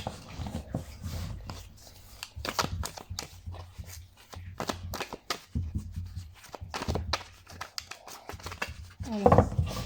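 Tarot cards shuffled by hand on a table for a Pisces reading, giving a string of close, crisp flicks and papery rustles in irregular bursts, with a brief clatter near the end.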